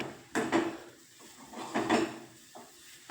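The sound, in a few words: stirring semolina porridge with jaggery in a pot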